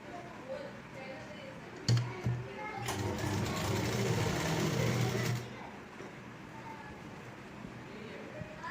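A sewing machine stitches a seam on a Rajputi lehenga, running in a burst of a few seconds of rapid, steady mechanical whirring, quiet and close, with faint talking around it.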